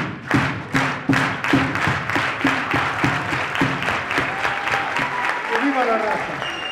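An audience at a lifetime achievement award event does the farm worker clap: slow, loud, unison claps about once a second that gradually speed up and blur into a continuous round of applause, with a few voices audible near the end.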